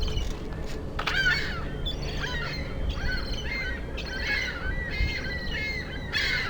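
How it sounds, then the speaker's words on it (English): Seagulls and other seabirds call repeatedly outdoors near a rooftop, their harsh cries rising and falling over steady low background noise, several birds overlapping at moderate distance. "So there's seagulls and some other kind of seabird."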